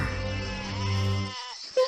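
Sheep bleat in an animated story about a shepherd boy tending a flock, a sustained close wavering bleat lasting over a second, then a brief pause and a short higher sound at the end.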